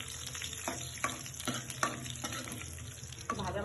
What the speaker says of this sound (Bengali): এখন এটার মধ্যে সরিষা ফোড়ন দিব এবং শুকনো মরিচ দিয়ে ফোড়ন দিব।